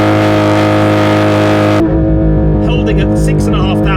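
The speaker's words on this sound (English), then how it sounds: "Let me demonstrate to you launch control." A Porsche 992 GT3 RS engine held on launch control, a loud steady high-revving drone that cuts abruptly midway into a deeper surging roar with rising harmonics as the car launches.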